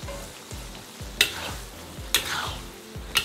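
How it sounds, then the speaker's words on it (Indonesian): Peas simmering in sweet and sour sauce for a fish dish, with a steady sizzle and bubbling plus rhythmic scraping strokes of a spoon stirring the pan about twice a second, and a few sharper clatters. "Habis itu kita rebus kacang polongnya dengan saus asam manis sampai si asam manisnya itu meresap ke kacang polong"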